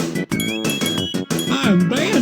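Banjo's cartoonish character voice from Diddy Kong Racing on the Nintendo 64 chirps in short, warbling syllables over bright, tinkling game music, loud and up front.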